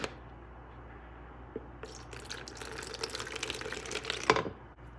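Milk pours into a bowl while mixing chocolate muffin batter, a short liquid splash that starts abruptly, swells for a couple of seconds close by, then stops.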